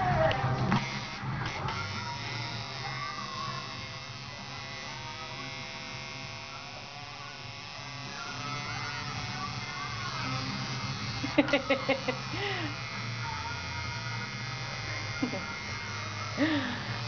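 A tattoo machine buzzes steadily throughout a tattoo session, a continuous electric drone that runs under people talking nearby.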